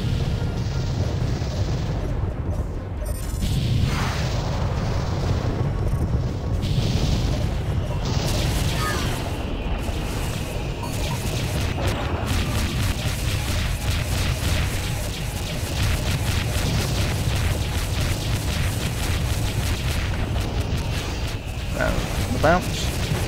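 Flak from capital ship guns in the space combat game FreeSpace 2 fills the air with a dense, continuous rumble, broken by repeated heavy booms and crackling bursts.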